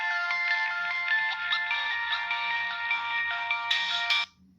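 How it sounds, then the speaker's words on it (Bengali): An old mobile phone plays a bright electronic ringtone, a steady melodic run of beeping notes close and loud, stopping abruptly near the end with no talking. "রিংটোন।"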